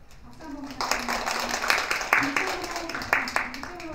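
Scattered hand claps from an audience at an award ceremony for a teaching-materials contest, a few sharp claps spread through the clip under someone speaking over a PA.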